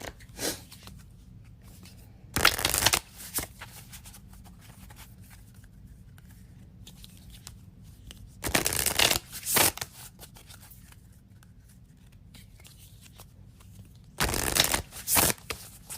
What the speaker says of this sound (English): some shuffling going here.